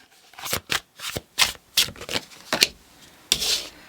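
Tarot cards are shuffled by hand in a run of short papery rustles and slaps, about a dozen quick bursts spaced irregularly and heard up close with no talking.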